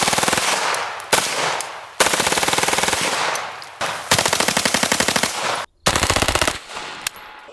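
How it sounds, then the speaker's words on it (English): A PSA AKV 9mm carbine bump-fired from the shoulder outdoors, loud rapid bursts of gunfire in several strings separated by short gaps, each burst a fast rattling stream of shots. "whenever I take this out, I do a little bit of bump firing from the shoulder as well"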